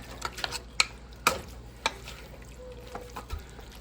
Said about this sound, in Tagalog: Haluin natin ng ganito guys.